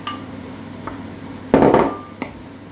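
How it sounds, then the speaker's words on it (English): Aubergine flesh drops into a pan of softened vegetables, a short clattering scrape of utensil on pan rising over a quiet background, followed by a couple of light knocks. "I'm going to put in the flesh from the aubergine."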